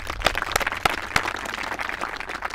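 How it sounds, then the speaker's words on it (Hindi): A group claps loudly for a few seconds, with uneven sharp claps forming a short burst of applause. "जोरदार तालियां।"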